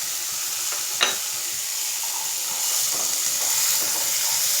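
Boiled chickpeas fry in a pan with oil tempering for a gongura chutney, giving a steady close sizzle and hiss. A sharp clink of stirring comes early, and no one speaks.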